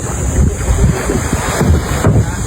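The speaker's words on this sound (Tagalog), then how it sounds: "malakas-lakas pa yung alon" Rough sea waves wash and crash continuously, mixed with steady wind rumble and a low boat engine drone, loud and close, heard while boarding a boat.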